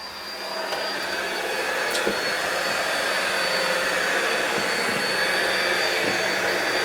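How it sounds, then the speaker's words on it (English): A Miele Complete C3 Carpet & Pet vacuum cleaner runs on medium suction over pet hair, giving a loud, steady whooshing drone with a thin high whine that holds constant from start to finish. "I'm going to use this vacuum on its medium suction and see how it does."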